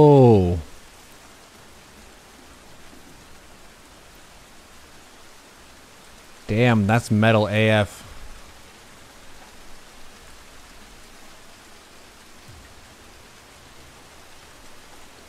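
Rain from the Rain of Blood spell in the real-time strategy game Immortal: Gates of Pyre hisses as a steady, soft wash. Someone speaks briefly at the start and again in the middle.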